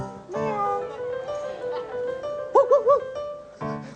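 A voice imitates a cat on a comedy stage show, giving a long drawn-out meow followed by a quick run of short meows, close and clear.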